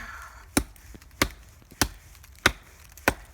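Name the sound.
axe chopping wood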